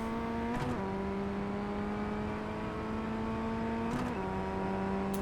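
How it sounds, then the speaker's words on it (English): Formula Ford FF1600 race car at Oschersleben in iRacing, its engine holding a high, steady drone at full throttle, with two brief pitch dips from quick gear changes, loud and close with no talk. "And then we're just full throttle through the rest of the way."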